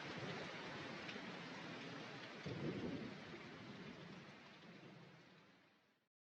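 A steady heavy downpour with a low rolling thunder rumble partway through, from a thunderstorm with tornado warnings around Fort Worth; the rain roars continuously and close, then fades out at the end.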